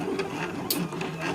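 A Silhouette Cameo cutting machine printing, giving a continuous mechanical whir with small rhythmic ticks and one brief sharper click, steady and fairly close with no talk.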